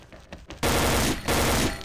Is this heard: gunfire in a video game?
yes